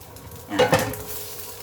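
Cooked rice scooped into a cooking pot while making baked rice with Chinese sausage in a rice cooker, giving a brief pair of scraping clinks of utensil against pot near the middle, close and alone.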